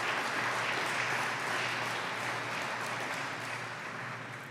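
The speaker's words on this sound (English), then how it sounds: "So let's give them applause." Guests at the 2021 House of Mercy gala give sustained applause, a steady wash of many hands clapping at moderate loudness from start to finish.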